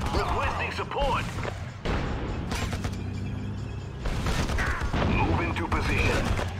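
Gunfire in the strategy game Act of War: Direct Action, sharp shots and crashing impacts layered over continuous battle noise, with radio-style unit voices speaking over much of it.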